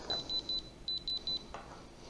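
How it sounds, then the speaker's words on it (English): A small electronic diamond tester gives two sets of three short high beeps as it touches a diamond, evenly spaced, clear and close over a quiet background. "If you've got a diamond, it's going to ring like that."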